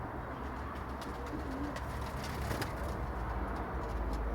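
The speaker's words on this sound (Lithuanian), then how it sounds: "paukščiai vadinami Birmingemo broileriai." Birmingham Roller pigeons coo softly in their outdoor loft, young birds recently moved to a new enclosure; the low, steady cooing sits within continuous ambient noise with no talk.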